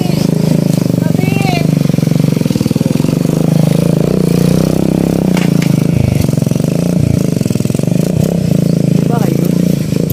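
A motorcycle engine drones loudly and steadily close by while people talk over it.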